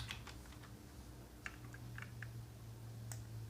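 Typing on a computer keyboard while writing HTML: soft, quiet key clicks in short irregular bursts over a low steady background hum.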